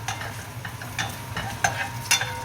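Bacon lardons fry in a pan for spaghetti carbonara, a close, steady sizzle broken by several sharp scraping stirs and clinks at irregular intervals.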